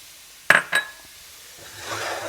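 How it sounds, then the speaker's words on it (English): A utensil clinks twice against a pan while cream cheese goes in, followed by a soft, steady scraping swirl as it is stirred, close and fairly quiet. "And we're going to get it all stirred in nicely."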